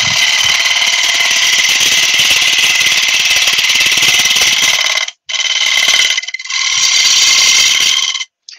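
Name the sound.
bowl gouge turning wood on a lathe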